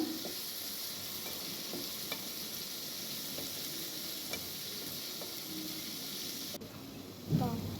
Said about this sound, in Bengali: একটু ভেজে নিতে হবে। হাফ ভাজা হয়ে যাওয়ার পরে আমি এবারে মশলা দেব।